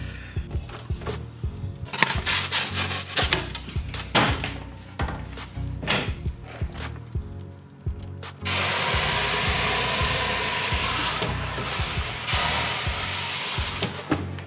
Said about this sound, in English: Nice amount of steam in there.